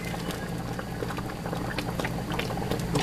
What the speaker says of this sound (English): Take it a while to quit boiling.